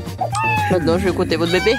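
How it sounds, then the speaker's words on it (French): A cat meows from inside a hiding spot, its drawn-out, wavering cries running through most of the moment and overlapping with someone speaking French nearby. "Pourquoi elle miaule?"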